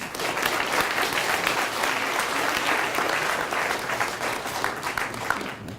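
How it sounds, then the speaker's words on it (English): An audience at an elementary school DARE graduation gives Maurice Canfield a steady, dense round of applause from many hands, sustained evenly for the whole stretch with no talk over it. "So give my friend a good round of applause, and let's thank him for coming today."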